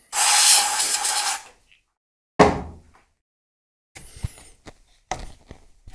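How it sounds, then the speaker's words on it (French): Silicone spray hisses in a loud, close burst of about a second and a half during turbo fitting on a drift car, followed by a couple of scattered clunks and light handling noises. "Spray silicone."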